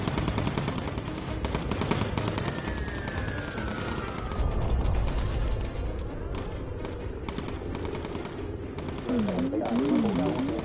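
Bomber gunners firing machine guns in the video game Bomber Crew, sustained rapid bursts of gunfire with engine drone underneath and a brief whistling sweep, steady throughout.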